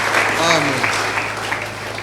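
A church congregation applauds and cheers in praise during a French-language sermon, a dense wash of clapping and voices that holds steady for about two seconds while a voice speaks over it.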